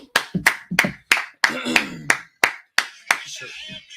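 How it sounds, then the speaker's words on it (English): A group at a brotherhood class claps hands together in a brisk, even beat of about a dozen distinct claps, each sharp and close, with a brief voice heard among them. "All right, clap it up."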